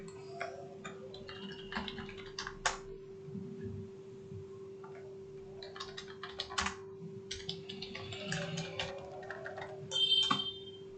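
Typing on a computer keyboard, with irregular, close clicks and short bursts of keystrokes over a faint, steady electrical hum.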